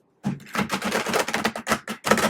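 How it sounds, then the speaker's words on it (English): Rapid flicking and riffling of tarot cards in quick bursts, close and crisp, with short pauses between shuffles. "One more shuffle."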